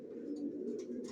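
Racer pigeons kept in a loft give a soft continuous cooing murmur, close and fairly quiet, with faint higher chirps flickering over it.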